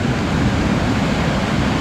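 Strong river water rushing in a steady, loud, broadband roar, swollen after rain in a rural province, filling the clip on its own without voices.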